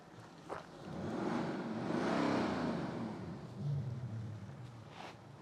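A BMW X4 M40d diesel engine revs in sport mode, rising to a swelling mechanical roar with more engine noise than exhaust, then settling and briefly revving again, heard up close inside the car.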